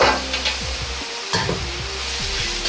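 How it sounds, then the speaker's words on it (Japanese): Vegetables stir-fry in hot oil in a wok, a loud steady sizzle broken by repeated scraping and tossing strokes, with a brief quiet gap midway. "野菜全体に油が回るように炒めていきます。"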